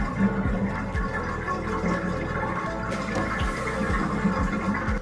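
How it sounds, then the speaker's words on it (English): Clean water pours and splashes while rinsing soap off a French bulldog during a bath, a steady running gush with intermittent sloshing close by and no talking. "now I'm going to use clean water to get this soap off of Mabel"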